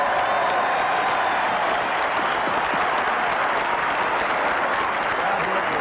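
A large golf crowd at the 1978 British Open applauds champion Jack Nicklaus, a dense, sustained wash of clapping that holds steady and loud for several seconds.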